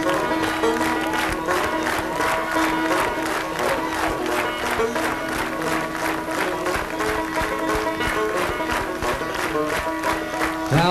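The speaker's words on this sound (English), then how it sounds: "Now clap me some rhythm just as fast as you can." Audience at a 1986 bluegrass show clapping a fast, steady rhythm in unison alongside music, loud and continuous throughout.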